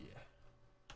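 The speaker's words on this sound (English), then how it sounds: "I was typing in the wrong area." Computer keyboard typing while entering a memory address on a PC emulator, with a steady run of quick keystrokes through most of the second and a louder burst of clicks at the end.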